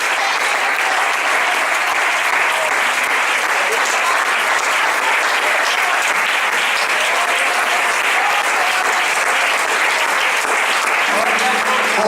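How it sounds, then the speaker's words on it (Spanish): A church congregation applauds loudly and steadily for the whole stretch, a dense, continuous wash of clapping with voices buried in it. "Colóquese de pie y denle un aplauso al Señor Jesús."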